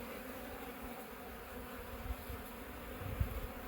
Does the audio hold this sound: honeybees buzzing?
yes